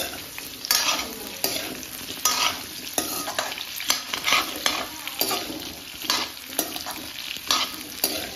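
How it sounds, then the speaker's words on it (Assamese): Potatoes sizzle steadily in hot oil while a utensil stirs and scrapes the pan in repeated strokes, close and fairly loud. "এতিয়া আলু ভাজি আছোঁ"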